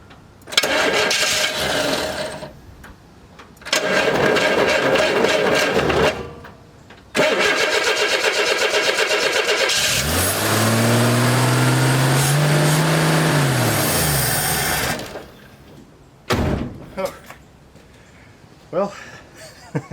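A 1964 Pontiac LeMans with a troublesome starter cranks in several separate bursts, then catches and runs loudly, revving up and settling, before cutting off, with someone talking between attempts.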